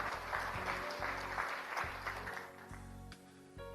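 A church congregation at GBI Rock Bandung applauds steadily during a service, a dense wash of clapping with a low sustained tone beneath it.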